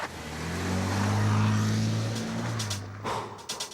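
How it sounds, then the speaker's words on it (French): A BMW X3 or X5 with xDrive all-wheel drive starts off on snow, its engine swelling into a loud, steady drone that fades after a few seconds as faint clicks and knocks follow. "Les images parlent d'elles-mêmes sur un démarrage sur neige."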